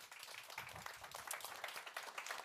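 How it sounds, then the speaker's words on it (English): Seminar audience applauding at the close of a talk, a dense, steady patter of many hands clapping at moderate distance, fairly quiet and even throughout. "A round of applause."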